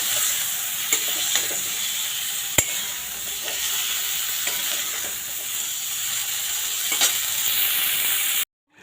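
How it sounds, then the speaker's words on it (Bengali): Bengali home cooking: after the fish is fried, vegetables sizzle in hot oil in a pan with a steady hiss and occasional sharp utensil knocks while being stirred, close and alone until an abrupt stop. "এটাকে একটু ভেজে নেবো ভালো করে।"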